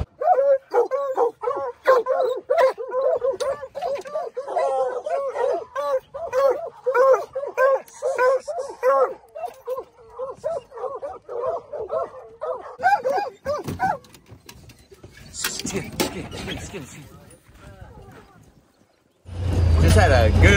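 A pack of hunting hounds on a bear trail bays in a rapid, overlapping stream of barks and yips that carries on steadily, then thins and fades, leaving rustling and gusty noise near the end.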